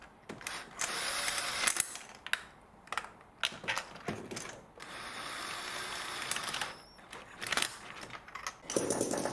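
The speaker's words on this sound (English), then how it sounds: "So I just gently use the machine there to get them in a bit faster" A power tool drives spark plugs into a BMW six-cylinder engine, heard as quiet, intermittent bursts of whirring and ratcheting clicks separated by short pauses.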